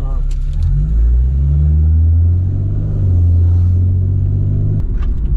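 Supercharged Lexus IS 350 F Sport on a drag racing run: loud, sustained engine roar with rising and falling revs, close to the microphone.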